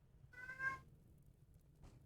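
A cat gives one clear meow during a tabletop fantasy role-playing session. A second, much fainter sound follows a moment later against a quiet background.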